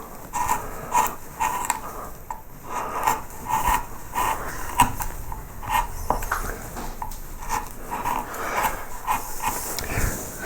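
Hand carving cuts into a wooden bow tie, repeated short scraping and shaving strokes of a blade across wood at an irregular rhythm, close and fairly quiet.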